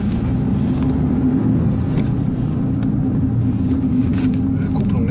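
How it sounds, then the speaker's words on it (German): A used Kia Picanto hums along on a test drive, its engine a steady low drone heard from inside the cabin with road and wind noise, while people talk in German over it. "Jetzt fahren wir mal eine Runde."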